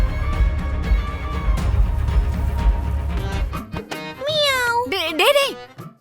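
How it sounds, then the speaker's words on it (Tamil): A cat meows in a domestic scene, giving a couple of rising and falling cries near and fairly loud at the end, after a stretch of background music and voices. "பூனை வந்துருச்சுடா."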